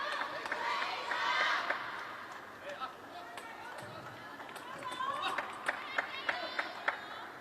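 Spectators at the 2025 World Table Tennis Championships women's singles match in Doha's Lusail Arena cheer and clap in a steady crowd swell, then sharper individual claps, with a commentator talking over it.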